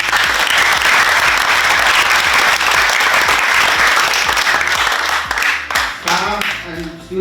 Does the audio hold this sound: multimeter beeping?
no